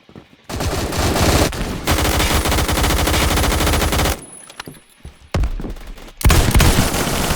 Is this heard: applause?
no